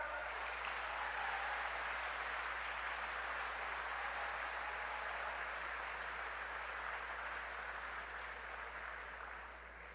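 Sustained applause from the audience at a speech by Dr Jean-Bertrand Aristide, a dense, steady wash of clapping that fills the whole stretch and eases off only slightly toward the end.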